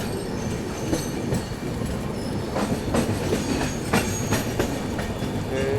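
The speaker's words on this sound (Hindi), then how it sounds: "कोई तो ट्रेन जा रही है भाई, वो ये रहे बैंकर्स।" A passenger train, the Gitanjali Superfast Express, rolls past with banker locomotives pushing at the rear, giving a loud, steady rumble with rhythmic wheel clatter and occasional squeals.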